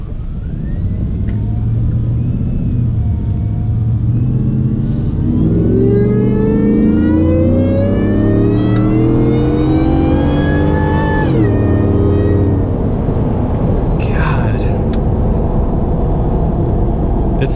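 A 700 hp Shelby F-150 Tonka Edition pickup truck on 325 tires revs and accelerates hard along a road, its loud engine note climbing through several gear pulls and then dropping off, close and continuous.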